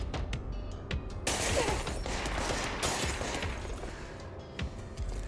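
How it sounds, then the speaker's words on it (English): Gunfire in the video game Control: dense bursts of shots and impacts, loudest in the middle, over rumbling ambience with scattered sharp cracks. "Who's shooting me?"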